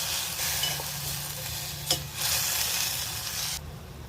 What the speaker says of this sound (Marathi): आता मी हे सगळं व्यवस्थित फ्राय करून घेतो